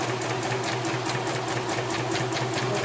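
Close, steady whirring of a sewing machine running a straight line of stitching, the needle's rapid regular chatter pulsing evenly throughout without any voices.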